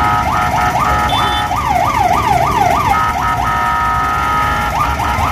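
Ambulance siren wailing and yelping through a crowded seafood market in Malabon, loud and steady over a dense crowd murmur, with rising sweeps repeating in quick cycles.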